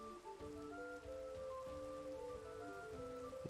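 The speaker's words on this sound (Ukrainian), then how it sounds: "Це не гроза, щоб її скіпнути можна було. Це звичайний дощ." Steady, even patter of ordinary rain in Minecraft falling throughout, with a soft tonal in-game music line running beneath and no talking.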